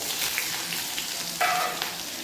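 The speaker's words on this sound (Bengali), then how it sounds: "দিয়ে দেবো থেতো করে রাখা রসুন" Crushed garlic and onion hit hot oil spiced with five-spice tempering and dried red chilli, producing a constant crackling sizzle with a brief louder burst partway through and soft stirring sounds.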